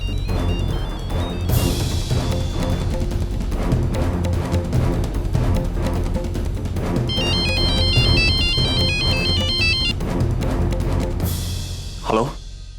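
A phone ringtone plays repeatedly as a melodic electronic tune over a steady backing, continuing for several seconds before ending with a short sweep near the close.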